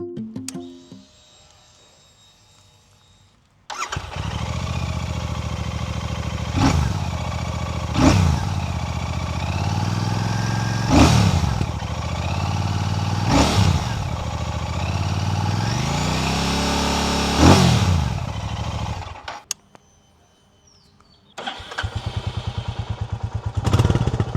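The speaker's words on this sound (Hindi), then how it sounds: "ये वही डुअल सिलेंडर इंजन है जो GT, इंटरसेप्टर और बाकी 650s में आता है।" A Royal Enfield Classic 650 twin-cylinder motorcycle starts up and then idles with a steady, close, loud rumble. Several short revs of the throttle rise and fall. The engine cuts off, and a brief restart follows at the end.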